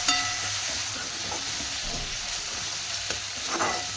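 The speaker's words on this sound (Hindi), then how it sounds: "अब मैं टमाटर को गलने तक भी इसको भूनूंगी।" Tomatoes frying in a pan for a mixed dal tadka, a steady close sizzle and hiss throughout with light stirring scrapes and a few small pops.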